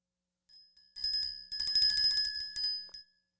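A small hand bell rings close and bright in several quick jingling bursts with brief gaps, then one last short ring, with no one talking.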